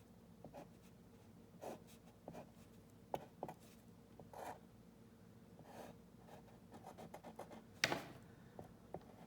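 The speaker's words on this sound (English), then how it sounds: "So I'm going to draw the circuit" A pen scratches and taps as a series resistor circuit diagram is drawn by hand, in faint, irregular strokes and short rubs with pauses between them, and no talking.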